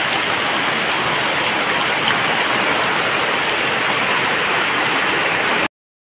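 Heavy rain pours down in a dense, steady roar of hiss and splatter close by, unbroken for several seconds before stopping abruptly.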